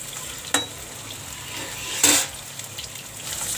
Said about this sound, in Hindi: भिंडी को हम थोड़ा सा फ्राई करेंगे।